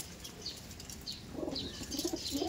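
Released pigeons burst into flight with bursts of flapping wings at a loft, several soft whirring flutters repeating and growing busier toward the end, fairly faint and without speech.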